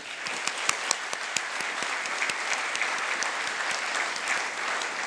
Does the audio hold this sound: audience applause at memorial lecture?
yes